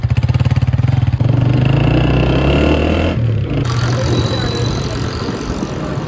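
A motorcycle engine idles with a rapid pulsing throb, then swells into a rougher, louder roar that runs steadily to the end, close by in an outdoor street with voices nearby.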